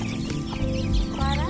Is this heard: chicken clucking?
yes